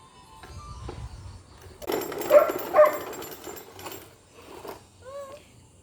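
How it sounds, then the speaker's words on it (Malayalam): A puppy lets out a few close yips and short barks in a cluster, then falls quiet with faint background noise around it. "അപ്പം അവിടെ പട്ടിക്കുഞ്ഞിങ്ങനെ കുരയ്ക്കുന്നതുകൊണ്ട്"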